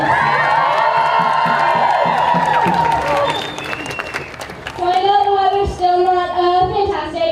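An outdoor climate strike crowd claps and cheers for a speaker, with shouts and whoops over the applause at first, then a lull followed by more sustained voices and cheering.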